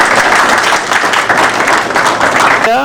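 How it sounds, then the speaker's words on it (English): A loud, close burst of audience applause at a children's event, brisk and continuous for a few seconds, with a voice cutting in right at the end. "Everybody get them a round of applause for knowing all of this."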